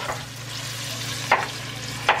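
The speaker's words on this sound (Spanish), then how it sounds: "Lo estamos friendo y después le ponemos el arroz." Onion, tomato, red chili and carrot fry in a pan for Salvadoran rice, a steady sizzle with two brief scraping stirs near the end.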